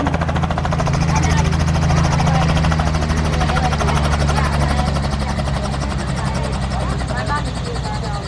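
A helicopter drones loudly and steadily nearby, its rotor thumping and engine roar filling the whole stretch, with faint chatter of people underneath.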